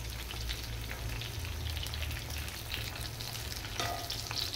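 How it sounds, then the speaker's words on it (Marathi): Onions and cashews fry in a pan for palak paneer, a steady close sizzle with faint stirring and spattering throughout, even and continuous with no talking. "पालक शिजेपर्यंत मी कांदा फ्राय करून घेते।"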